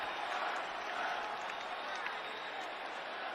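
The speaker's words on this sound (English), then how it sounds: "And this crowd will say bye-bye to Grady Dick" Roaring crowd in a packed college basketball arena during Kansas at Kansas State as a player fouls out, a dense, steady wash of many voices and cheering without distinct beats.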